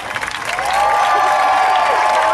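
A theatre audience at a New York short film festival claps steadily in a loud, sustained wave for a film director, building quickly from scattered claps into full applause with a few faint cheers.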